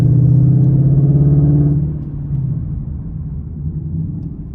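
A Mustang GT fitted with PowerStop Z26 brakes stops hard from speed: a loud low road and engine rumble drops off sharply partway through, then a quieter steady drone lingers as the car slows.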